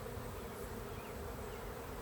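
Dense, steady buzzing of many honey bees close around an open hive during an inspection, a continuous insect drone with no talking over it.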